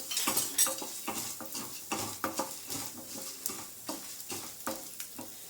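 Pepper and cumin are stirred and dry-roasted in a pan over a low flame, with a soft sizzle and repeated clinks and scrapes of a spoon against the metal pan.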